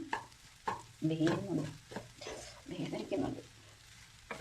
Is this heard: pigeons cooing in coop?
no